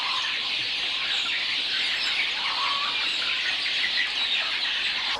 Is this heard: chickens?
yes